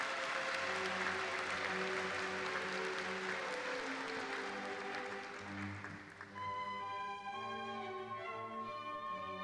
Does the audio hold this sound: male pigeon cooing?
no